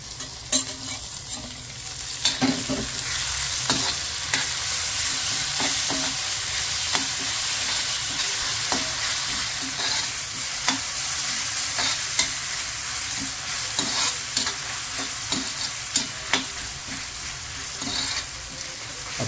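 Onion and tomato fry in a pan for prawn sukka (kolambi sukka), a steady close sizzle broken by regular scrapes and clacks of a stirring spoon, with no talking.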